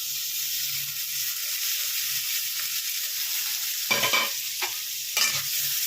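Washed, dried rice with cashews and raisins fries in oil in a pan, a constant close sizzle broken by three loud stirring scrapes toward the end.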